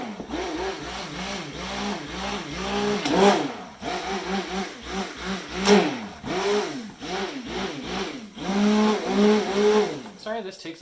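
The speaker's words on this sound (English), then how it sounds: "Stick blender." A stick blender whirs through white sage and sea salt cold process soap batter, its close motor pitch rising and falling in repeated pulses as it churns the mixture.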